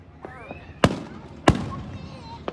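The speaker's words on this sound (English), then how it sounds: "More fireworks to come on this awesome 4th of July vlog of mine." Fourth of July fireworks burst in two sharp, loud bangs about half a second apart, with crackling trails and a fainter pop near the end, against light background noise.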